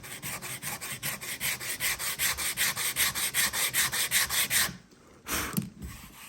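Wood filler on a wooden surface being lightly sanded by hand, a steady rhythmic back-and-forth rasping with about twenty even strokes, close and fairly loud, then stopping briefly before a short final rub.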